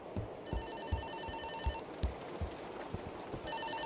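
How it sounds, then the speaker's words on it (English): A telephone rings in the horror video game Fobia, repeated electronic bell bursts with short gaps over a low ambient background and faint footsteps. "Answer the phone."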